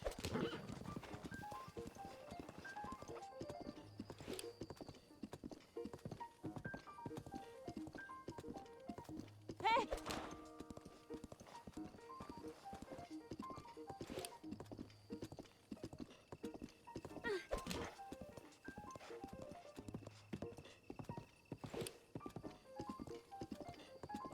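Steady clip-clop of horse hooves at a brisk riding pace in a Zelda video game, with an occasional snort or whinny and faint game music behind.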